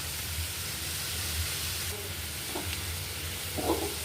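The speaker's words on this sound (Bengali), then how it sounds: "এই যে আমি এগুলো ভেজে নিতেছি" French fries frying in a generous amount of oil, giving a steady, soft broadband sizzle throughout, with a few faint clinks and scrapes toward the end.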